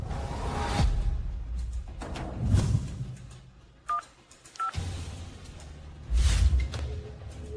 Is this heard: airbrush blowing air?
no